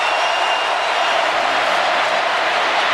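A college football stadium crowd of 87,000 at an Auburn Tigers versus Alabama Crimson Tide game roars in a dense, steady wall of cheering noise, loud and continuous throughout with no break.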